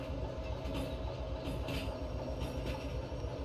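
A locomotive pulling wagons in the Derail Valley game rolls along the rails with a continuous low rumble, faint wheel squeal and a light rattle, heard at steady volume throughout.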